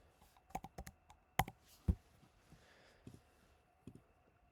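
Keys clack on a computer keyboard in a quiet room, a handful of sharp, close taps in irregular bursts with short pauses between them.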